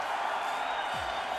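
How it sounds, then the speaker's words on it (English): A hockey crowd roars and cheers as a broad, steady wash of noise at an arena game, loud and continuous throughout. "Crowd on their feet."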